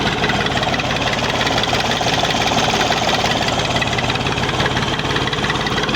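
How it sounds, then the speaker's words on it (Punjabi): A Massey Ferguson 135 tractor with a worked-on engine idles slowly nearby, a loud, steady low rumble with a regular knocking beat and rattling vibration that continues evenly throughout. "ਪਹਿਲੇ ਇੱਧਰ ਟਰੈਕਟਰ ਦਾ ਦੇਖੋ ਜੀ ਸਾਊਂਡ, ਵਰਕਨ ਇੰਜਣ ਆ ਜੀ।"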